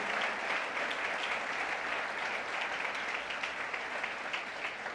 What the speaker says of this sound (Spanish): ¿Quién le da un aplauso al Espíritu Santo?